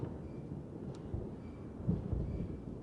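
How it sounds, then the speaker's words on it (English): Thunder from the video game The Journeyman Project 3 rolls as a deep, continuous low rumble that swells slightly near the end, heard alone with no talking. "the thunder actually sounds really good"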